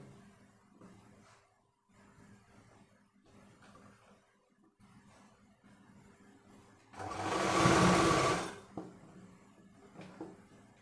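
A sewing machine stitches the hem of a dhoti pyjama in one loud, steady burst of about two seconds, with quieter handling noises before and after and no talk.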